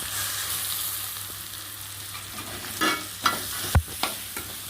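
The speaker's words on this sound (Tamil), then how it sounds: "போட்டு லைட்டாக வதக்கிக்கணும்." Cut capsicum sautés in a pan for spicy noodles, a continuous bright sizzle with several spatula scrapes and knocks toward the end, no talking.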